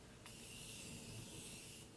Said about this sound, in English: Spray my face first.